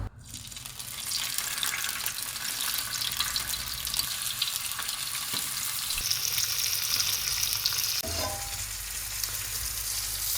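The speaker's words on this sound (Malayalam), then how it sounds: "നല്ലപോലെ മസാല പറ്റിയിട്ട് ഫ്രൈ ചെയ്തെടുക്കാം" Mackerel coated in masala of chilli powder, salt and pepper frying in a pan of hot oil, giving a steady, dense sizzle that carries on alone with a few brief clinks near the end.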